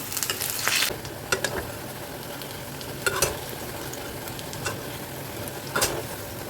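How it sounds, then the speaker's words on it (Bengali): Pakoras sizzle in hot oil in a wok, with a steady frying hiss underneath. A metal spatula flips them in several brief, sharp clatters and scrapes spread across the clip. "এই খুন্তিটা ইউজ করছি, কেননা এগুলো না ওই কাঠের স্প্যাটুলাতে ওল্টাতে পারি না"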